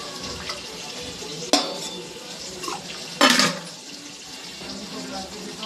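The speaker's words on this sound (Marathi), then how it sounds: "पाणी जास्त टाकणार आहे कारण रस्सा पाहिजे आम्हाला" Water poured into a pot of prawn curry gravy, a couple of short splashing gushes over a low, steady kitchen background, close by.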